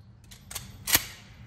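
Two sharp, loud gunshots from a large gun at a US shooting range, about half a second apart, the second stronger, each cracking briefly before fading into a low background rumble.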